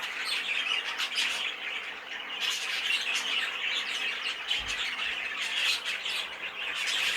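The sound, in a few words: canary (heavily variegated buff) squawking in show cage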